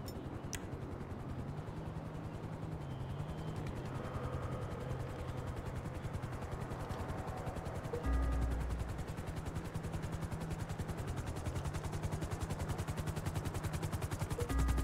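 A helicopter hovers and sets down in Grand Theft Auto V Online, its rotor chop a fast, steady rhythmic thudding that stays close and loud throughout, with a brief heavier thump partway through.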